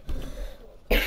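In Diablo 3: Reaper of Souls gameplay, after a brief quiet stretch, a single sharp cough bursts out close to the microphone.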